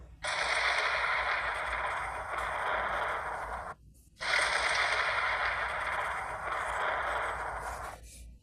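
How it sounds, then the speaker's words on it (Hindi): Thunder with cracking lightning as a sound effect: two long bursts of harsh, crackling rumble separated by a brief silent gap, loud and close, with no voices. "बिजलियां कड़क रही है।"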